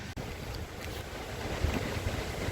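Wind gusting outdoors around a pitched tent, a steady rushing buffet close to the microphone, with a brief dropout early on and no speech.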